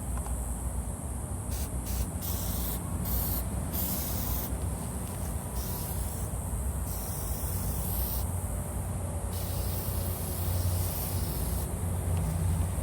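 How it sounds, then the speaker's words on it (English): A steady aerosol spray of Meguiar's headlight coating hisses close by, broken into several bursts with brief pauses between them. "Now I'm going to respray it one more time, and that will be the finishing spray."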